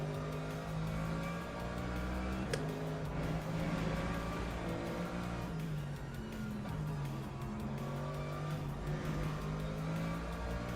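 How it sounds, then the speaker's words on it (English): Hypercars in the Le Mans Ultimate racing game roar past with a steady, loud engine drone, pitch shifting as the cars go by and a brief sharp click partway through, with no talk. "we've got the leaders of the hypercars coming through"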